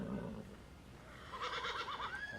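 A horse whinnies in a stable in the video game Farming Simulator 17, a drawn-out wavering neigh rising toward the end, moderately loud over a soft ambient bed, with no voices.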